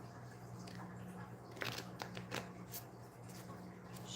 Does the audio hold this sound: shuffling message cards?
yes